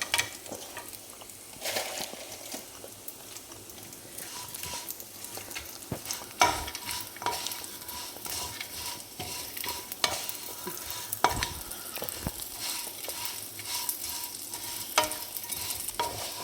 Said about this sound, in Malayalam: ഇത് കരിയാതെ നന്നായിട്ട് ഇളക്കി കൊടുക്കണം